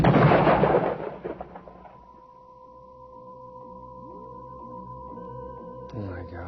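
A single loud gunshot burst opens a tense drama scene, a sharp broadband blast that decays over about two seconds into a lingering ringing tone and low rumble.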